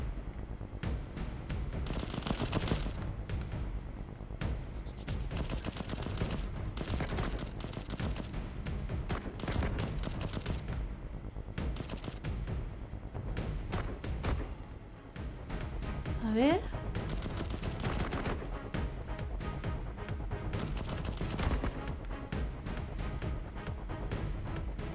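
Rapid bursts of gunfire crackle almost continuously, with dense sharp shots and a brief whistling swoop partway through, from the shooting game Cover Fire.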